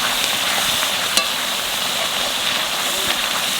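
Spiced yogurt with coriander, cumin and chili powders poured into hot oil in a pan for a potato curry, a continuous loud sizzle and frying crackle with a brief sharp clatter near the middle.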